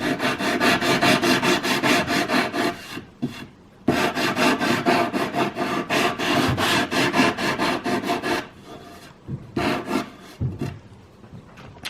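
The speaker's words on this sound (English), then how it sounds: "it goes pretty fast if you're using the right sandpaper" Sandpaper rubs the edge of a wooden kids' table in fast, close back-and-forth strokes, a loud rhythmic scratchy rasp that pauses briefly before resuming and slows into a few separate strokes near the end.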